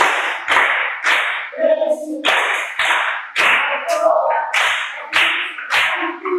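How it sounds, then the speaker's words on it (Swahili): Children clap their hands in short, sharp bursts repeated in a loose rhythm, loud and close, with a few voices calling between the rounds. "Pigeni makofi"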